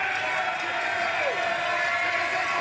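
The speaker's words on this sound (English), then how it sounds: "You can hear the crowd starting to get a little bit more involved." An arena crowd at a tennis match cheers and whoops in a sustained, moderately loud wash, with a voice briefly rising above the din.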